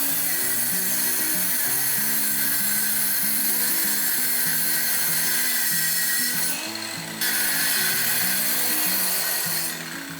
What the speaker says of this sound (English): Because the groove cutter can't cut from the edge, I first make a shallow cut with a fine circular saw.